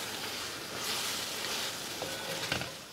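Chicken seasoned with garam masala sizzles in a pan, a gentle steady frying hiss at close range with a few faint stirring clicks, no talking.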